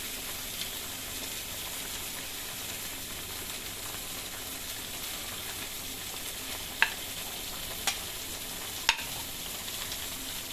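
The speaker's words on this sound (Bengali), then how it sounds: "এবার মাংস ভেজে রাখা আলুগুলো দিয়ে দিলাম।" Pre-fried potatoes added to a pan of Bengali-style meat and paneer gravy, giving a steady dense sizzle and hiss throughout with a few faint clinks of a utensil near the end.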